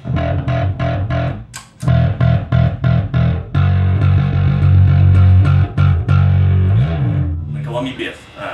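Heavily distorted bass guitar through a distortion pedal that boosts and blends in the low end, chugging in short repeated bursts, loud and close, then a sustained gritty note sliding down before fading into softer tones.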